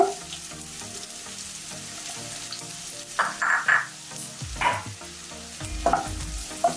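Onions frying in a pan for veg Manchurian give a continuous gentle sizzle, with a few louder stirring scrapes and clatters partway through, heard close and moderately loud.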